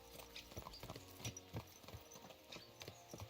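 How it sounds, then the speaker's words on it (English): Horses on a road in Kingdom Come: Deliverance II clip-clop at a brisk steady trot, their hooves close and distinct over a low background hum. "Let's really spur these horses on, eh?"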